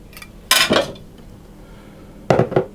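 A spoon stirs cinnamon and spices into flour in a mixing bowl, giving two short bursts of clinking and scraping against the bowl, separated by a quiet pause.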